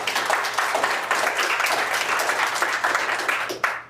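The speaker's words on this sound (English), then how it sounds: "So please, special round of applause for them" An audience at a Startup World Cup regional event in St. Louis gives the event partners a sustained round of applause, loud and continuous from many hands, tapering off at the very end.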